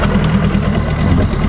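Boat engine running at sea during a fishing trip, a loud, steady low rumble with constant vibration and no pauses, close by and alone.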